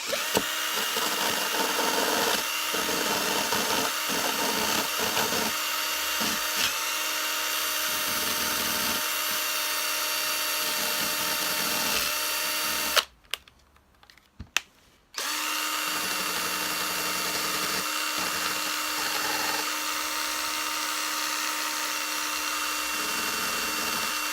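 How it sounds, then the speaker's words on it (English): A power tool grinds and buzzes continuously, removing rust from metal parts of a Hoover Turbopower vacuum cleaner, briefly cutting out and going quiet before starting again and running steadily. "Quickly just going to remove the rust off these."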